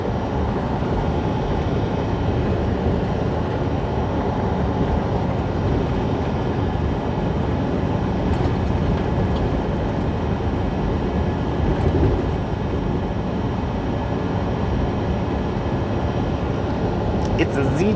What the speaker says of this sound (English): It's a Z train,